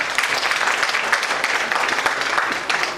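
Audience applause welcoming guests at an Arya Samaj Hindi Divas program, a dense, steady wash of clapping that continues evenly throughout without pause.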